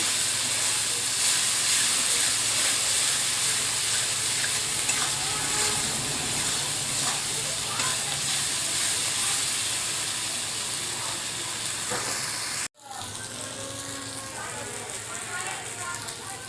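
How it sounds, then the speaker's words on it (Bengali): Spice paste frying in a pan for a stuffed pointed-gourd chicken dorma, a loud continuous sizzle and steam hiss with stirring scrapes, close up, broken by a brief cut near the end before the sizzle resumes. "মশলাটা খুব ভালোভাবে কষিয়ে নেব।"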